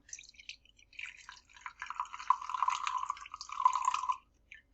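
Liquor trickles from a measuring cup into a lemonade drink, a light, close splashing pour of a few seconds with bubbling glassy drips that fades to quiet.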